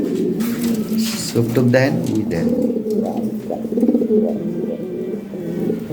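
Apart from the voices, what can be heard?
big racing pigeons of Belgian blood line cooing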